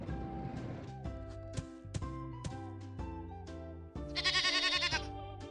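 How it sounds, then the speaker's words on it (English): Goat bleats in an animal-learning video game for children, mixed into a busy, bright game soundtrack of chimes and tones, with a wavering, repeated bleat near the end. "Goat."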